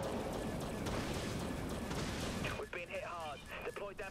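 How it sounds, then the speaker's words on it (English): A heavy blast rumbles from a nuclear weapon detonating in the naval space game Dreadnought, a broad roar for about two and a half seconds, then fading as someone talks over it. "I prematurely detonated the nuclear weapon"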